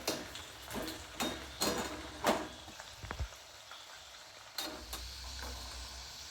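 Soft sizzling and crackling of peanuts frying in oil, with a few louder scraping stirs and light clinks, close and steady, no talking.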